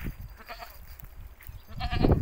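A goat bleats outdoors on a small farm while a kid goat nurses nearby, the cries rising near the end amid faint background noise.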